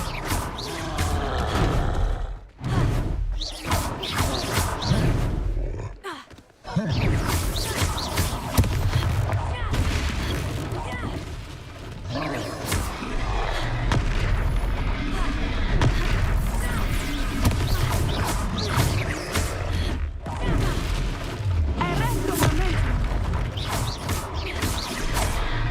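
Spell-casting combat effects from Hogwarts Legacy, including Expelliarmus, form a dense, loud, continuous wash of booms, crackles and mechanical impacts with brief dips, with voices at times in the mix.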